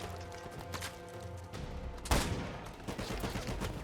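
Gunfire in Uncharted 4, including a sniper, cracks amid a busy firefight: one sharp loud shot stands out over scattered rapid shots and rumbling game ambience.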